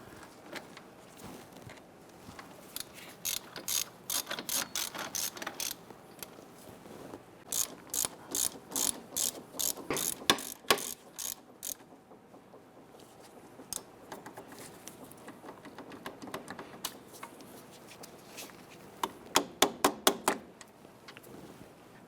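Ratchet spinning bolts down on a lower ball joint of a 1999-2004 Jeep Grand Cherokee: close, crisp clicking bursts in quick runs, pausing between strokes, with no talking.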